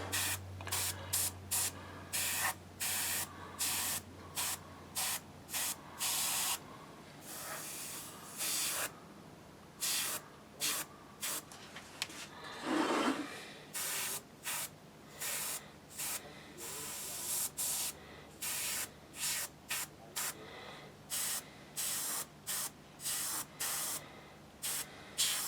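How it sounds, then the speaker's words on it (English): An airbrush sprays paint onto a bowl in repeated short bursts of hiss, stopping and starting rhythmically and heard close and alone over a faint low hum. "I've just altered the pressure slightly on the airbrush."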